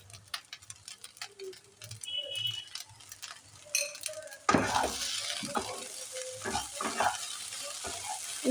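Spoon stirring pasta with beet salt and a little black pepper in a pan, quiet scraping and light ticks at first, then louder sizzling and scraping strokes in the second half.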